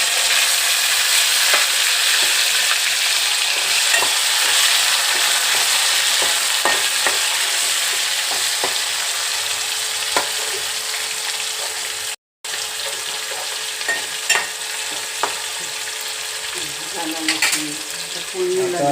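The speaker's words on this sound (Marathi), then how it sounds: "टोमॅटो टाकतो त्याच्यात अगोदर टोमॅटो टाकत आहे" Tomatoes sizzling and frying in hot oil tempering for a fish curry made with red snapper, a steady close crackle with occasional stirring, continuous and loud with no talk.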